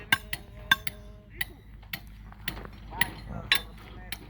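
Workers install steel dowel bars for a rigid concrete road at a remote site, making irregular metallic clinks and taps of bars and tools against a low background hum, with no talking.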